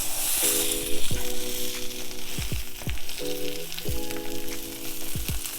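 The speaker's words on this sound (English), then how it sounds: "I'm going to give it a little press to make sure that all of that top of the tortilla gets into the butter and gets browned." Tortilla frying in butter in a pan, a steady close sizzle punctuated by several short knocks and scrapes as it is pressed down, with no voices.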